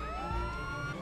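An ambulance siren wails in GTA 5, a rising electronic tone sweeping steadily upward, heard alone at moderate distance with a low rumble underneath.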